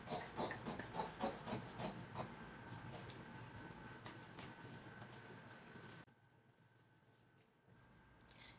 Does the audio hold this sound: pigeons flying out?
no